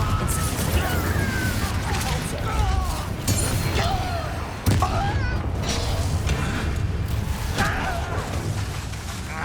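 Confringo spell blasts in the video game Hogwarts Legacy: a constant din of booms, crackling impacts and magical effects, with a sharp hit near the middle and no pause in the noise.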